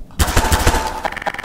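Rapid shotgun fire in the video game Garry's Mod, with four loud, close blasts in quick succession followed by a run of softer, ringing impacts and clatter.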